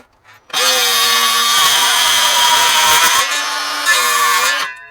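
A power tool cuts through wood guided by a Kreg jig: a loud, steady whine starts abruptly, holds for about four and a half seconds with a slight dip in pitch near the end, then cuts off, with no talking.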